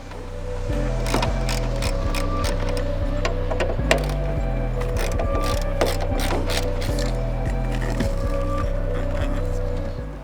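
A ratchet works a 10mm nut on a Toyota GR Yaris engine mount with steady rapid clicking over a constant mechanical drone, loud and close throughout.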